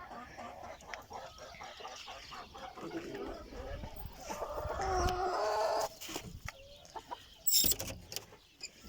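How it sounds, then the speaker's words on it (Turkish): Chickens, including an İspenç hen, cluck and call nearby in a coop, with a louder squawk partway through and other farmyard noises around them. "Yanında bir tane ispenç tavuk var."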